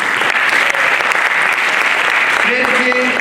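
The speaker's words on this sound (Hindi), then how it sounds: "उनके लिए जोरदार तालियां।" A theatre audience at a national drama festival applauds actress Kamna Bhatt, a loud, dense burst of clapping that holds steady for a few seconds. Near the end a voice speaks over the applause.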